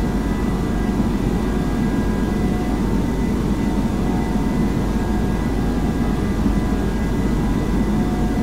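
An airliner's jet engines at takeoff power, a dense, steady low roar that fills the cabin at constant loudness throughout with no voices.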